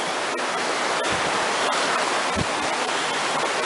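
Steady broadband rush of a rocky creek flowing beside a hiking trail in the Deep Creek and Noland Divide area, continuous and fairly loud, alone without voices.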